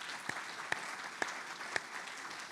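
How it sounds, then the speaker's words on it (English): Scattered claps from an annual-meeting audience ring out over a soft crowd wash, a few distinct claps spaced about half a second apart. "So let's have a round of applause for the BACWA staff."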